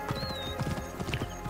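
Quick, rhythmic clip-clop of horse hooves close by in the video game Assassin's Creed Origins, with a faint tonal whistle above and a soft musical background.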